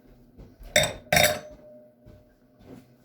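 Non-crystal drinking glasses clink together twice in quick succession, bright and close, followed by softer clinks amid kitchen bustle, with no talking.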